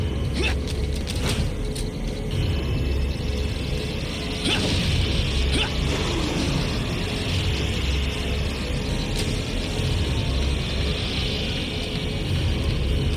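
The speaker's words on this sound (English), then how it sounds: "Oh, the elevator's here." An elevator arriving in the Resident Evil 4 video game, a steady mechanical rumble with creaks and a few clanks and whooshes over about thirteen seconds, no talk.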